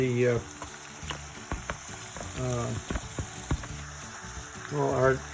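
Onions frying in a pan for a kidney-friendly meal, a steady sizzle under the sound of a utensil clattering and stirring against the pan, with a few louder scraping bursts.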